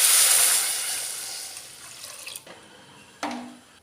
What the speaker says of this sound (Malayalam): ഇനി ഇതിലേക്ക് നമുക്ക് ആവശ്യത്തിനുള്ള വെള്ളം ഒഴിച്ച് കൊടുക്കാം